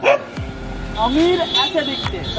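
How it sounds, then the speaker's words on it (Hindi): Dogs bark and yip repeatedly in short bursts while someone talks over them. "कुत्ते भी भौंक रहे यार"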